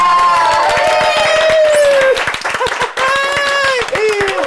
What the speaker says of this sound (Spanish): reciban con un fuerte aplauso en sus casas y aquí también